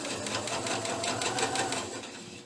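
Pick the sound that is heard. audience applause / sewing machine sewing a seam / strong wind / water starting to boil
sewing machine sewing a seam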